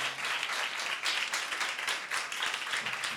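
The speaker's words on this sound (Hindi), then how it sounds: "बजा लो ताली जे बजानी।" A church congregation clapping along during a Hindi-language Christian service, a brisk, fairly loud run of many hands in near-unison that pulses rhythmically before fading slightly at the end.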